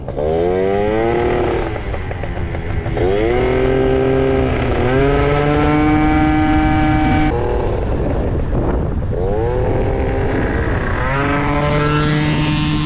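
A small scooter engine revs loudly and repeatedly, pitch climbing and falling with each throttle burst, close and continuous.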